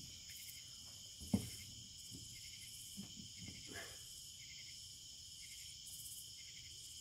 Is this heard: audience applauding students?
no